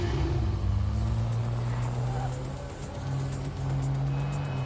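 Car driving in Project Mugen, a loud steady engine drone with shifting pitch and brief tire noise, close and continuous, with no talking.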